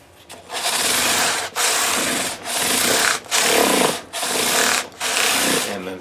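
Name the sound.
scrubbing Fender Jazz Bass frets with 400 grit sandpaper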